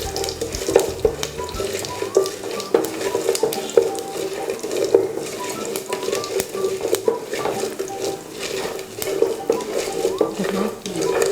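Mustard seeds and urad dal sauté in oil in a pan, a busy crackling sizzle with light spoon clinks throughout, while a voice murmurs faintly underneath.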